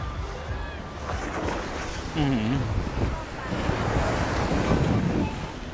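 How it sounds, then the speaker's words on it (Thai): Sea waves surging onto Bangsaen beach in Thailand, a steady roaring wash of surf with wind buffeting the microphone, swelling louder in the second half, with a voice talking faintly underneath. "น้ำทะเลมันซัดเลย"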